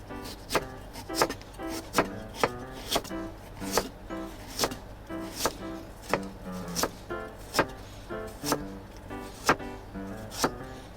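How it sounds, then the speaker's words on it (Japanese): A knife thinly slicing peeled ginger on a cutting board, producing crisp, evenly spaced chops about twice a second, close and clear with no talking. "これを一回、薄切りにカットして"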